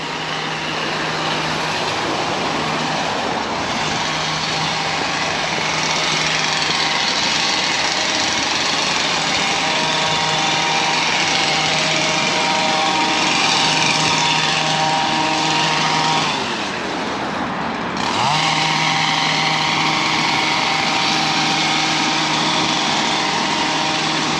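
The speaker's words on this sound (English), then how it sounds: "Municipal gardeners are out trimming the hedges." Municipal gardeners trim hedges in Palmanova, Mallorca, with a powered hedge trimmer whose small engine drones steadily and loudly at close range, pitch dipping briefly once before resuming.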